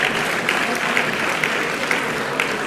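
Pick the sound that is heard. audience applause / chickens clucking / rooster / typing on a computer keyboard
audience applause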